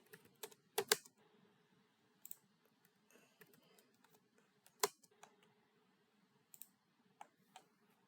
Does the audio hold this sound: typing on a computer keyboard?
yes